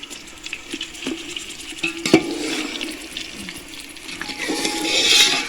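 Chicken fries in a pot for chicken pulao, a loud, dense sizzle and bubbling at close range with scattered clinks and scrapes, swelling louder toward the end, with no talking.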